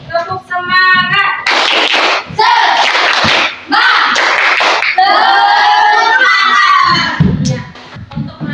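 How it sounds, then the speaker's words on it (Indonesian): A class of schoolchildren performs a rhythmic group clap for focus in the classroom, with loud patterned claps and shouted chanting and cheering voices together, ending with a teacher speaking. "Kita tepuk semangat dulu ya. Tepuk semangat."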